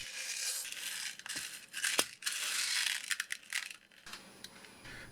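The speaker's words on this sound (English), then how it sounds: "I'll start by measuring some lead shot from a diving weight." Lead shot is measured out from a diving weight, giving close, gritty pouring and rattling with clinks, a sharp clatter, and scraping bursts that rise and fade at a quiet level.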